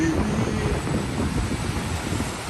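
Gusty wind rushes across the microphone beside rough seas on the Malta shoreline, a loud continuous low roar over a short span with no talk.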